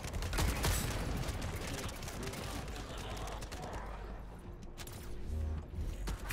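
Gunfire in the video game The First Descendant, with dense rapid shots crackling throughout at moderate volume, denser near the start, and a voice talking over the battle.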